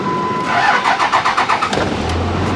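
A Dodge car engine, unused for a while and iced over, cranks in a rapid, rhythmic series of pulses, then catches and settles into a low, steady idle, loud and close.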